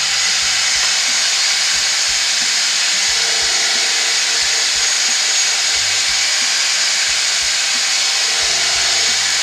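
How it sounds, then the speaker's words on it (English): Wood lathe spinning fast with a sycamore bowl mounted, a steady loud broadband hiss and whir running continuously, with faint low thumps beneath. "So I've got the lathe going nice and quick."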